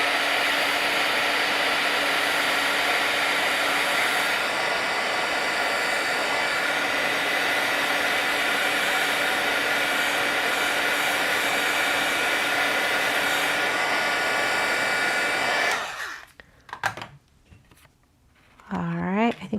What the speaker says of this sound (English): Dry it with the heat tool, not a bad idea.